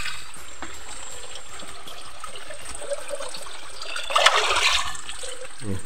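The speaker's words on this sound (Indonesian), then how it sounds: "Nah, ini saya siram." Water poured onto a coconut bonsai, a gentle trickle that swells into a brief, brighter splashing gush near the end, close and otherwise quiet.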